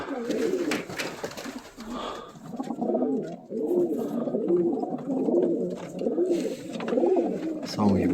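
Pigeons in a large loft formerly used for racing birds, cooing in repeated rolling phrases, close and steady, with brief voices of people at the start.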